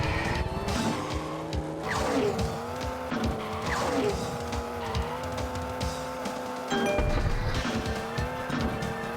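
Race car engine roaring steadily in the Hot Wheels Stunt Track Driver video game, with rising and falling pitch sweeps and tire squeals, loud and continuous with a brief dip near the end.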